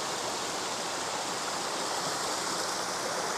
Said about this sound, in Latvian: atnākam šitādā burvīgā upes iztekā, kalnu upes iztekā, gandrīz tā kā ūdenskritums